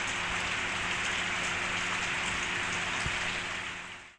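Heavy rain pouring down in Banjarmasin, a dense, continuous hiss of drops striking surfaces at close range, steady and loud throughout before fading at the very end.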